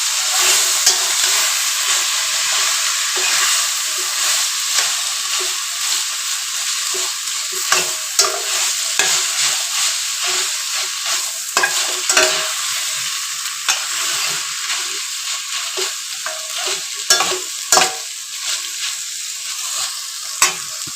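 Chow mein stirred and tossed in hot white oil in a pan, with a steady bright sizzle throughout and scraping stirs that sharpen into sporadic louder clanks, no voices present.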